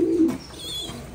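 American giant pigeons cooing in a Thai-style cage: one close, low coo followed by faint chirping, with no one speaking.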